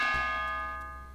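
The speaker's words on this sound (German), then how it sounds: "Ding dong? Warum?" A doorbell ding-dong chime in Super Mario Maker rings out as a single bright tonal strike that decays smoothly over about a second, with a faint click near the end.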